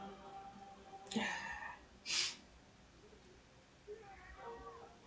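A cat meows softly, with a brief high cry and a short breathy snort against a quiet indoor background, while a person's low voice comes and goes.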